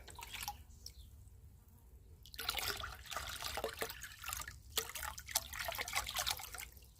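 A fertilizer mixture is tipped into water in a 12-litre bucket, giving close, splashy pouring and dripping bursts after a quieter trickling start, with no talking.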